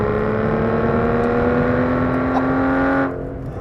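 A 2014 Aston Martin Vanquish's 5.9-litre V12 holds a loud, sustained, tonal engine note near the listener, then drops off abruptly just before the end.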